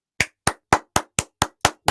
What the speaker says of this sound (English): You clap your hands, you are happy